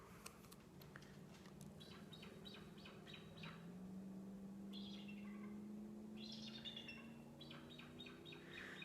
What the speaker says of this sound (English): Birds are fighting over there, just ignore them.